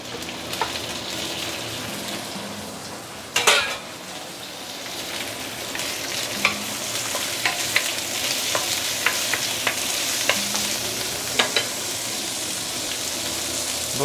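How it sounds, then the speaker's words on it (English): Prawns fry in a heated wok with a continuous crackling sizzle, broken by a few sharp clatters and stirring scrapes. The sizzle is close and steady throughout, with no one talking. "So once the wok is heated up, you can actually put in the prawn."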